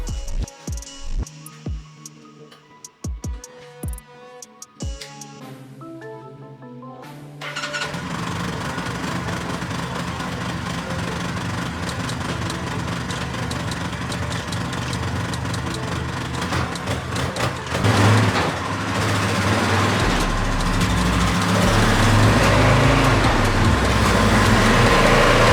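A Polaris Sportsman 570 ATV in a backyard starts after a few seconds of clunks and handling, then its engine runs steadily, growing somewhat louder and rougher toward the end.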